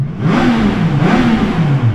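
A Triumph Tiger Sport 660 motorcycle's three-cylinder engine revs through its stock exhaust, loud and close, with a rising and falling throaty growl over two seconds.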